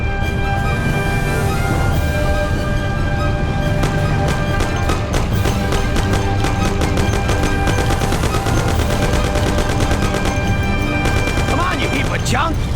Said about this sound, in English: Thompson, you and Sam shoot them.